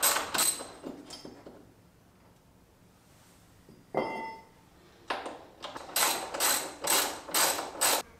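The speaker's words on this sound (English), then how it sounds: "Next up, I'm gonna take these little handles off." Tools work on a small handle of an old dirt bike, giving sharp metallic clicks and ratcheting bursts, a few isolated at first, then a quick rhythmic run of five or six near the end.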